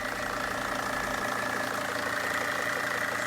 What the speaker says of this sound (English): The strange whining sound you're hearing is the power steering pump.